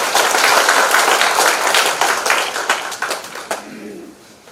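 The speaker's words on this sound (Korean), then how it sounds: "박수 좀 부탁드리겠습니다." Residents at an apartment reconstruction briefing applaud, a dense burst of clapping that gradually thins and fades out, with a faint low cooing-like sound near the end.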